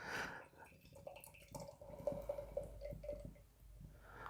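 Great Lakes Dortmunder Gold lager pours into a Great Lakes anniversary glass, a close gurgling, dripping trickle with small bubbling pulses in the middle, quiet and without speech.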